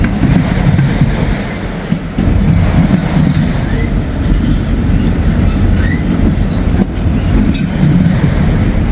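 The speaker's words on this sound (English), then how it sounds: "There's the train." A train rumbles past close by in Northern Kentucky, a steady loud roar with rattling wheels and occasional higher squeals, no voices.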